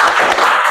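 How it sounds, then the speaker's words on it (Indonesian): Students in a classroom clap their hands for a presenting group, a short, loud burst of close, busy clapping. "Beri tepuk tangannya"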